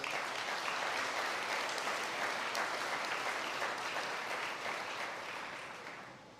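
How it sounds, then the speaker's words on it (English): Audience applause at an internship engagement function, a steady close wash of many hands clapping that fades out near the end, with no talk over it. "I ask you to give TSTT and all their leaders a round of applause."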